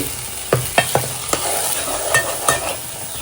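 Chutney fries in oil in a pan. Several sharp stirring scrapes and knocks sound over a continuous close sizzle, with no talking.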